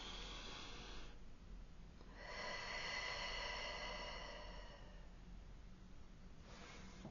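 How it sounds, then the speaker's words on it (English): A slow, deep breath drawn in and released, soft and close, with quiet hiss and no talking. "Take a deep breath with me."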